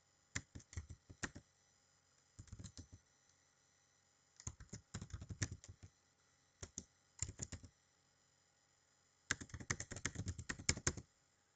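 Computer keyboard typing while entering a PowerShell command: several bursts of rapid, crisp key clicks separated by pauses, close and clear against a quiet background, with no talking.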